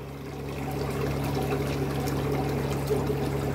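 Water from a piranha aquarium tank overflows during siphoning, making a steady, close pouring trickle with a low hum underneath and no speech.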